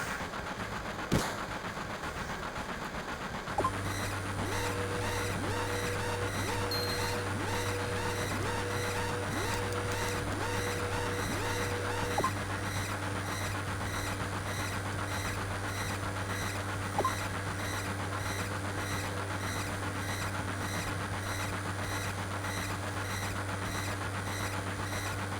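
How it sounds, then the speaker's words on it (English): A moving train in Final Fantasy 7 rumbles with a steady low drone and continuous rattling clatter that runs unbroken, with a few faint clicks and a brief thud over the noise and no talking. "We're jumping off a moving train."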